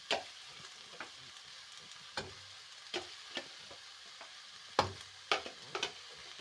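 Small sardines frying with grated coconut in a pan, a soft sizzle under a run of sharp scraping taps as a spoon stirs them, the knocks coming at irregular intervals.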